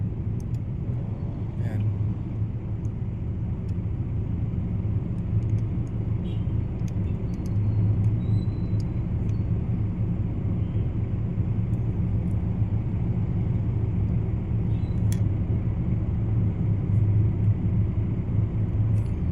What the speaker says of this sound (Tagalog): So ito maraming mga tricycle.